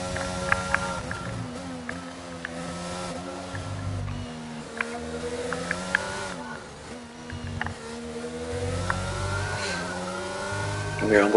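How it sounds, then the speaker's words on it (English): A McLaren race car engine in a racing video game drones and revs through gear changes along the start-finish straight, moderately loud and steady, with brief sharp ticks and a voice commentating over it. "So you have the first McLaren coming along the start finish straight."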